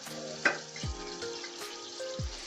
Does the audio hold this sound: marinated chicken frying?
yes